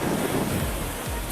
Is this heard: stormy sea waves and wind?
yes